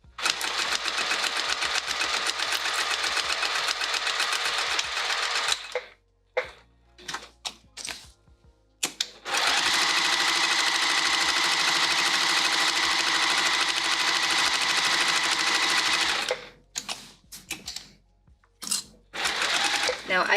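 A sewing machine stitches a quilted pouch in two long continuous runs, with short pauses and a few clicks and thumps between them, fairly close and steady.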